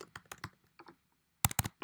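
Fingers type on a computer keyboard in short bursts of clicking keys, close and clear, pausing for a moment before a quick final flurry of taps.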